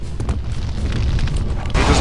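Grenade blast in the shooter game Return to Castle Wolfenstein: a sustained low boom and rumble lasting about two seconds, rising into a brighter burst near the end, with speech and game noise mixed in.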